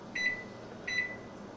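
Two short electronic beeps from a kitchen oven's timer buttons as the timer is set, evenly spaced and clear over faint room hum.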